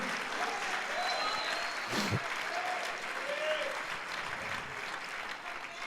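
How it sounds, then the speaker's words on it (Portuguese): A church congregation at a pastors' gathering breaks into applause, a broad continuous rush of clapping with faint voices and a few tonal sounds mixed in, fading slightly toward the end. "Pode aplaudir."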